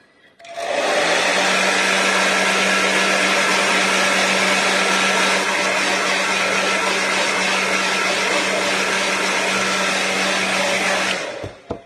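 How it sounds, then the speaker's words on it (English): A hair dryer switches on and runs with a steady loud whir and hum for several seconds before cutting off at the end. "I'm just going to turn the hairdryer on for a minute"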